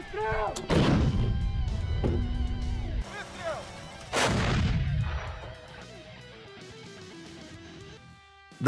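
A Russian Floks 120mm wheeled self-propelled artillery gun fires two heavy, close booms several seconds apart, each followed by a long, echoing rumbling tail and scattered mechanical clatter.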